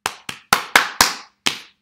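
Six sharp hand claps tapping out a rhythm in a primary school music lesson, close and crisp, with an uneven pattern of quick and spaced beats and a pause before the last clap, with no voices.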